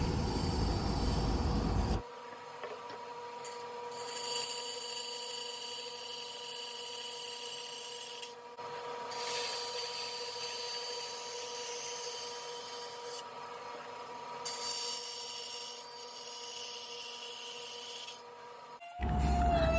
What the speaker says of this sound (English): Now we'll just cut these out at the bandsaw.